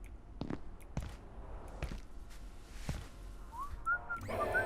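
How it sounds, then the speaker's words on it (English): A person whistles a short rising tune near the end, clear over quiet background taps and footstep-like knocks in the Abiotic Factor video game. "He heard my whistling."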